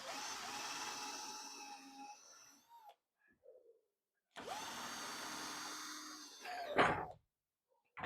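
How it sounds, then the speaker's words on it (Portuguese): Power drill boring a hinge screw hole into a wooden gate, two bursts of whirring drilling separated by a quiet pause, fairly close, with no talk. "e já vou fazer o furo, poder passar mais um parafuso ali para a dobradiça"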